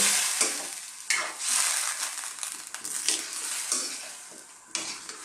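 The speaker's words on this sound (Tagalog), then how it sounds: "Haluin po natin." Bottle gourd being stirred with fish sauce in a hot pan, a steady sizzling fry broken by repeated scraping and clattering strokes of the spoon against the pan, close up with no talk.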